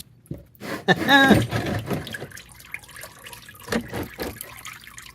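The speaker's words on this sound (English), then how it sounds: "let that drain all the way" Engine oil pours out of the oil pan of a 2009 Volvo C70 T5 into a catch container, a steady splashing trickle that is loudest at first and then settles into a fainter drip and dribble.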